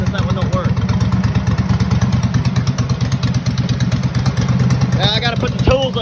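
A Kohler Command V-twin engine on a ride-on lawn mower runs at a steady idle with a fast, even chugging beat, close up, and a voice briefly speaks near the end.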